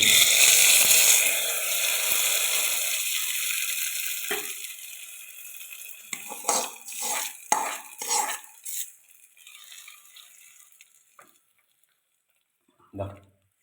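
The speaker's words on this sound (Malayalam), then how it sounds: "നല്ല ഉടച്ച് മിക്സാക്കാം" Taro (chembu) puzhukku being mashed and stirred in a pot, a soft scraping texture fading out, then a run of distinct spoon clatters and knocks against the vessel, ending in quiet with one last tap.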